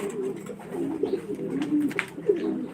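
Pigeons cooing at a pigeon farm that keeps fancy and racing breeds, soft repeated low coos from several birds close by over a quiet background.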